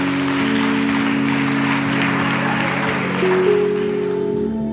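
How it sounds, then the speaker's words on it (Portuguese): Church congregation applauding together, a steady, dense wash of clapping that fills the room at even loudness, with a sustained organ or keyboard tone underneath and a higher note joining near the end. "Quantos podem aplaudir a Deus pela vida do Júnior?"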